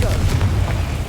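A Confringo fire spell blasts in Hogwarts Legacy, a deep rumbling boom that rolls steadily through the moment, loud and heavy in the low end, with a voice faintly present underneath.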